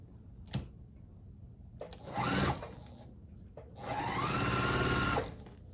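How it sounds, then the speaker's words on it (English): Two bursts of a sewing machine stitching a quilt block, the second longer, each a steady rapid mechanical whir, with soft handling clicks between them and no talk. "go back to the first line and sew it down"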